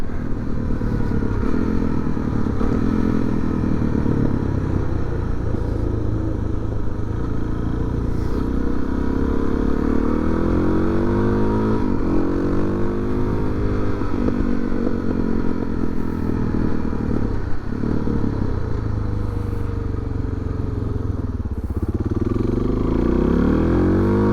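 A Suzuki DRZ400 dual-sport motorcycle is ridden on slick city streets on older tires, its single-cylinder engine droning loudly and steadily with rising and falling revs and a constant rumble of wind and road noise.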